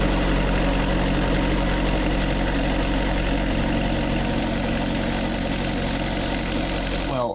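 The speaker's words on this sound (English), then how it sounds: "The engine vibrates so much" Sailboat diesel engine running steadily at idle, a loud, close, continuous low rumble with a vibrating, knocking texture that holds throughout before cutting off at the very end.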